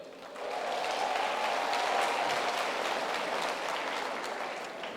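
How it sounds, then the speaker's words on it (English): A large audience claps together at a UFS university graduation ceremony, with the applause rising quickly into a dense, sustained roar that fades slightly toward the end. "If you agree with that statement, then I would just like you to give me a round of applause."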